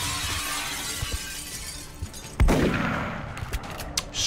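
Gunfire in XCOM: Enemy Unknown against a zombie, one loud sharp report with a shattering, glassy crack midway, trailing into debris and ambient battle noise.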